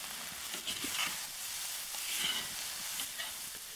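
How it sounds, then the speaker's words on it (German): A spiced Lagman noodle dish with chili powder is stirred in a hot frying pan, giving a steady close sizzle with intermittent scraping stir strokes and no talking. "Und alles umrühren."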